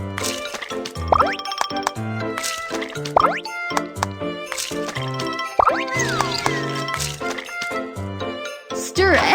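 A kids' cooking video game's cartoon kitchen effects: a series of bright plops, dings and crisp cracks, including an egg being broken, popping in quick succession against a bouncy musical backdrop.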